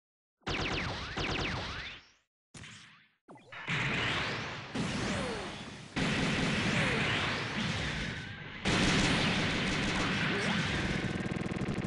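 Arios Gundam unleashing a missile barrage in SD Gundam Online: a dense, loud run of overlapping whooshes and crashing blasts that stops and restarts in bursts before settling into a sustained roar of impacts.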